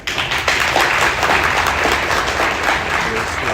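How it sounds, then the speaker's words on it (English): A live audience at a student integration competition gives sustained, even applause for a few seconds, a dense crackling wash of many hands at moderate loudness. "round of applause as well."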